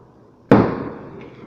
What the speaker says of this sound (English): Fireworks keep me awake because I was sleepy.